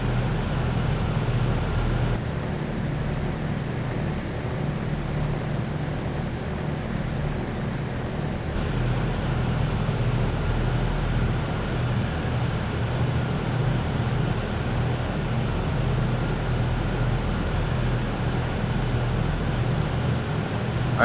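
Twin engines of a WWII P-38J in a flight simulator drone steadily in flight, a constant low, even hum filling the whole stretch with no talking.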